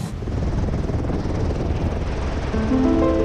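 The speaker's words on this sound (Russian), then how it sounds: "Габриэль, как волшебник, на своем голубом вертолете начал показывать мне самые красивые места в Доломитах." A blue helicopter flies over the Dolomites, its rotor and engine making a steady, loud, close drone that fills the whole stretch without a break.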